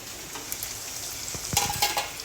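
Onions for a frankie filling sauté in a pan with a soft, steady sizzle, joined near the end by a few clinks and scrapes of a utensil stirring.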